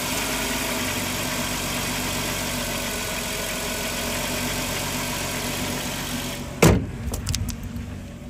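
2003 Dodge Grand Caravan Sport with a 3.3 liter V6 idling, a close, steady engine drone, followed near the end by a sharp thump like a door and a few light knocks.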